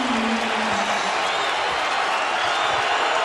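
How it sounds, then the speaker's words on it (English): Basketball arena crowd roaring in a sustained, dense wash of cheering and applause after a Kuzma basket in a Utah home game against Oregon, steady and loud throughout. "And now the crowd gets back into this one."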